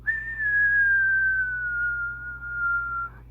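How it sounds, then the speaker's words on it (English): A single sustained whistle goes into the microphone of a Radioddity QT80 ham and CB radio, one clean steady tone gliding slightly downward for about three seconds over faint hum. "Let's give a little whistle into this thing."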